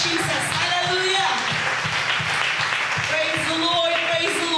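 Congregation at a church conference clapping in praise, dense rhythmic hand claps under continuous singing and voices, fairly loud and sustained.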